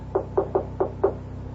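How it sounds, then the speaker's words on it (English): Five sharp knocks on a wooden door in a radio drama, evenly spaced then a slightly longer gap before the last, close and distinct over a low steady hum, with no voices. "Who knocks?"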